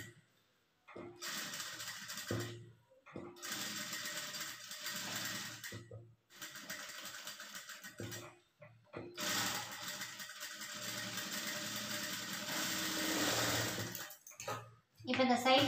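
A sewing machine stitches canvas into the back neck of a voile blouse in several whirring bursts separated by short pauses, the motor buzzing close and steady during each run.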